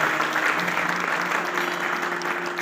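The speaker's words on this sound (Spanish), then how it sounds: "Bríndele un fuerte aplauso al Señor." A church congregation claps loudly in unison, a dense steady wash of applause filling the room for a couple of seconds.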